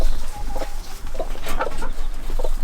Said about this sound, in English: I'm going to show you our baby chickens